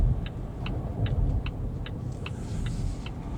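Volvo V60 Polestar cruising on an interstate, a steady low engine and road rumble inside the cabin with a regular faint ticking, like a turn signal, clicking about twice a second.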